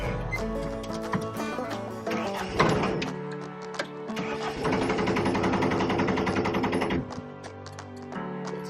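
A skid steer engine cranks and catches, giving a loud, rattling mechanical clatter that swells into a dense steady run for a few seconds before dropping back. No one speaks.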